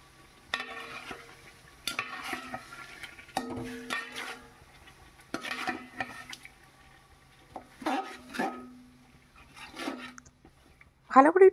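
Marinated chicken with salt is stirred and mixed in a pan for chicken pulao, bursts of wet scraping and soft sizzle in irregular strokes, separated by quiet gaps, with a brief louder clatter at the end.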